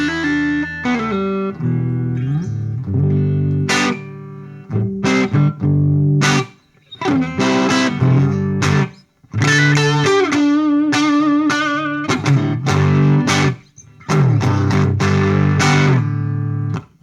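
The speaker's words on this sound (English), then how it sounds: "Now, just the pedal, just to give you some pedal tone." Electric guitar played through an effects pedal with the drive switched off, giving a clean modulated tone; strummed chords and picked phrases ring out loud and close in bursts separated by brief pauses, with no voices.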